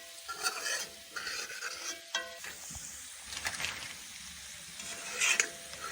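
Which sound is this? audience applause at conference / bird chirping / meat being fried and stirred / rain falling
meat being fried and stirred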